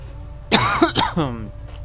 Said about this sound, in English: I don't know why I got a little bit of cough going on today